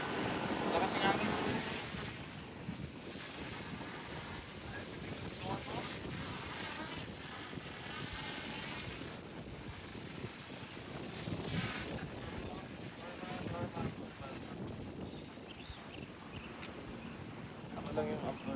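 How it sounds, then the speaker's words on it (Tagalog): Steady, strong wind at San Nicolas on a morning drone flight roars and buffets the microphone throughout, with gusts swelling and easing and a faint wash of water beneath. "Hindi, gawa ng hangin yan. Lakas ng hangin."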